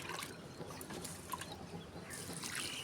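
Rice-rinse water is poured onto garden plants, a faint, close splashing trickle with soft gurgles and a brief louder gush near the end, no voices.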